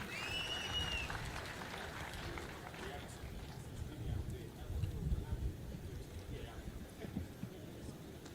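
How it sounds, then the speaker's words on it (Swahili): Moderate crowd clapping rises at an outdoor civic celebration in Eldoret, a continuous rustling patter that swells in the middle, with voices audible alongside. "Tumpigie makofi."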